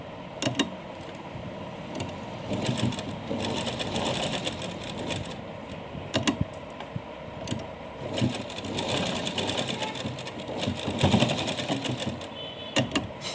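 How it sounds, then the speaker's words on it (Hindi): A sewing machine stitches a small outfit for a Laddu Gopal idol. It runs in close, busy whirring bursts with brief pauses and clicks between runs. "गोलाई करेंगे हम इस तरह से सिलाई लगा देंगे निशान के ऊपर"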